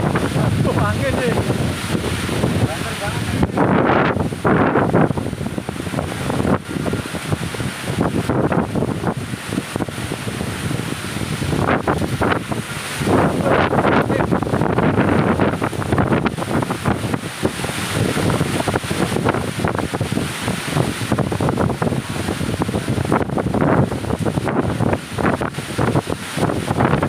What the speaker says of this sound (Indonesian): Angin banter ya.